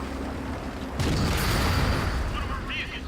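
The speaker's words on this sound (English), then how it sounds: "Is that artillery or something getting us?" Artillery fire in World of Tanks: a broad boom bursts in about a second in and then rumbles on through a dense, loud battle din, with faint mechanical whines near the end.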